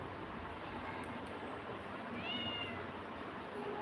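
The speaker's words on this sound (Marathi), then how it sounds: "ते काळं मांजर कुठं गेलं आहे" A single short meow from a black cat rises over a steady background hiss, faint and somewhat distant.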